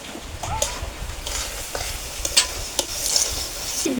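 Broken rice fries in a pan with turmeric and salt, a close sizzle broken by scraping stirs and soft clicks of a spoon, with no talking.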